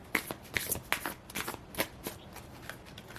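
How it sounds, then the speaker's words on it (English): A deck of tarot cards being shuffled by hand, close and crisp, with a quick run of riffling flicks and soft slaps in an irregular rhythm, no talking. "let's shuffle these cards and see what else comes out"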